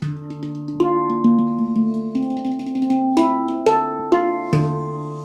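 A metal percussion instrument invented in Switzerland is struck by hand, its clear ringing tones sounding one after another and overlapping into a sustained, resonant melody, played close and alone.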